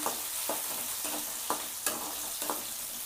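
Tomato pieces fry in oil while a spatula stirs them, a continuous bright sizzle broken by regular scraping strokes about every half second, close and clear with no voices.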